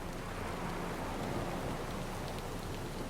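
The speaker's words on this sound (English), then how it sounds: "Descending into the city would be suicide while the relentless storm rages on." Heavy storm rain in the video game Pillars of Eternity 2, a dense, steady hiss of downpour filling the whole clip with no voices.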